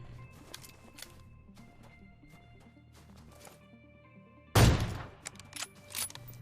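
Gunfire rings out in a shooting video game: one sudden loud shot, followed by a couple of smaller pops over a quiet, hum-filled background.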